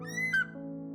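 An eagle gives a short, high whistled cry that slides downward and fades within half a second, heard over soft, steady background music.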